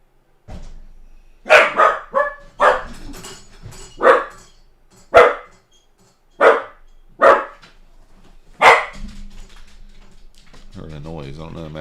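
A dog barks indoors, about nine sharp, fairly close barks spaced irregularly, with faint computer keyboard typing and low background hum.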